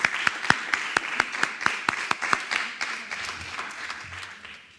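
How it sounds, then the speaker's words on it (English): Applause from a conference audience welcoming a Romanian Football Federation representative at an HPV cancer elimination event in Southeast Europe, crisp individual claps near and steady, sustained for several seconds then tapering off. "So please, can we welcome him with a huge applause."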